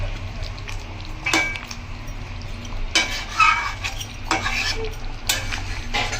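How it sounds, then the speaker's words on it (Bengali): A spoon stirs Bengali-style sardine fish curry with green chilli in a sizzling pan, scraping the metal in several distinct strokes over a constant frying crackle. "এবার অল্প করে আমি এটাকে নাড়িয়ে চাড়িয়ে নেব।"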